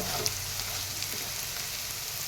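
Chicken meat frying in oil in a pan, a steady close hiss and crackle with faint popping spatters throughout and no talking.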